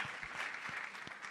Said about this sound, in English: Let's give him a round of applause, guys.